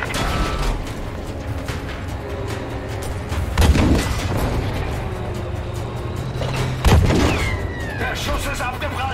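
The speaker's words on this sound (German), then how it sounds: "Der Schuss ist abgeprallt!" Battlefield V tank battle: a shell ricochets off Tiger tank armour, giving two heavy, sharp metallic impacts over a constant rumble of engine and gunfire, with voices calling out in the mix.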